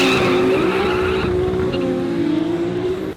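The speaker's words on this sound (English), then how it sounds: "This is my Skyline." A 1350 hp Nissan Skyline R32 GT-R race car holds a loud, steady high-revving engine drone close by, with tyre squeal and a strained, raspy edge before the sound drops away at the end.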